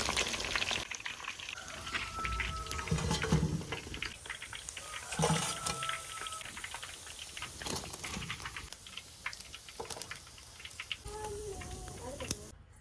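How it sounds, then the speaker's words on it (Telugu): Fish pieces from a giant Teku Chepa fish frying in hot oil for a curry, a steady sizzle and bubbling with louder surges, while a voice talks over it. "ఈ పీసెస్ని ఇప్పుడు నూనెలో వేసి ఉడకబెట్టుకుందాం"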